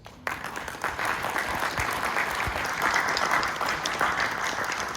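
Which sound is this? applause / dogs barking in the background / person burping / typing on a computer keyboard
applause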